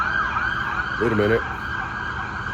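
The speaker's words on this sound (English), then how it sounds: "Ambulance going by." An ambulance siren wails steadily while passing by on a street in the Czech Republic, loud and continuous under background traffic noise, with a brief spoken phrase in the middle.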